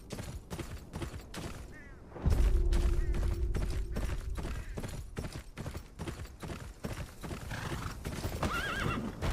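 Horse hooves clip-clop in a steady rhythm with whinnies and neighs in Game of Thrones: Kingsroad, a medieval fantasy video game, backed by a loud low rumble through the middle and a closing whinny near the end.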